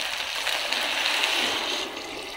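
Hot water poured from a vessel into a cooking pot for chicken pulao, a steady, close gushing splash that runs evenly for about two seconds and eases slightly at the end, with no talking.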